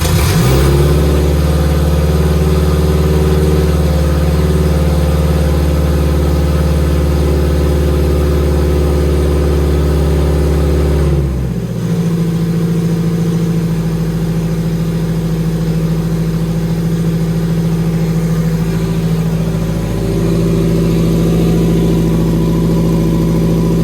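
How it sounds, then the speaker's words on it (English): With the throttle body closed, a car engine idles loud and close. Its steady hum shifts pitch abruptly about halfway through, then settles into a slightly different, even idle with no talking. "I closed the throttle body to see if it'll even idle now."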